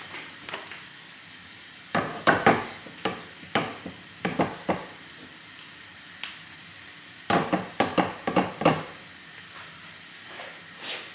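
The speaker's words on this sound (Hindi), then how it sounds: "चलिए पराठा बनाती हूँ" Paratha cooking on a hot pan, with soft sizzling and irregular bursts of crackling hiss as the flatbread is turned and pressed, quiet between the louder clusters and with no talking.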